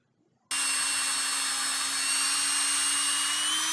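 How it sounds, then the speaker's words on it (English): A power drill bores holes into the root flare at the base of an ash tree, starting abruptly after a moment of quiet and then holding a loud, steady high-pitched whine with no pauses. "Then we drill holes in the root flare or the base of the tree."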